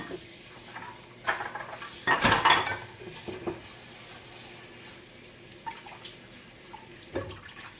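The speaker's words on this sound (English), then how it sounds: "So that it doesn't become sticky, I'm going to put water in, soak all this stuff." Dirty dishes from making waffles being gathered in a kitchen sink to soak, with clinks of pots and utensils and a burst of splashing water, quiet and intermittent over a low background hum.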